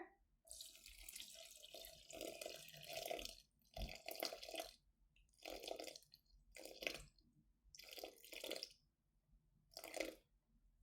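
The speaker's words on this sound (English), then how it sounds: "I'm going to put 300 grams of water in here." Tap water runs in repeated short pours into a bowl for sourdough bagel dough, about six separate splashing bursts separated by brief quiet gaps, close and clear with no talk.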